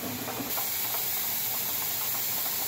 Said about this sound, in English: So our pressure canner has been venting a nice steady stream of steam for 10 minutes.